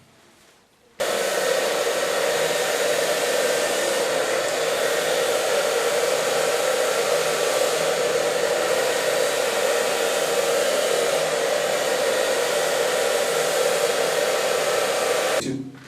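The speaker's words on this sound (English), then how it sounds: "I'm going to dry it with a medium brush" A hair dryer blows steadily at close range while hair is dried with a medium brush after foam is massaged in, switching on after a second of quiet and running evenly until it cuts off.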